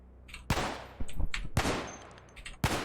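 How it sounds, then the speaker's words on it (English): Gunfire in the video game Cataclysm DDA, four loud sharp shots at uneven intervals, each a hard crack with a brief decaying tail, over a faint low background hum. "no way is it louder than all my gunfire"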